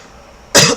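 A single harsh cough from a person with a cold bursts out close and loud after near-silence, followed by the start of a second cough.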